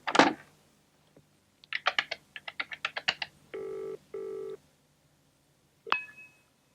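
A telephone being dialled to call home, with a sharp opening click, then a run of quick button taps, two steady beeping tones and a final ringing clatter. The sound is close, quiet and heard alone in a still room.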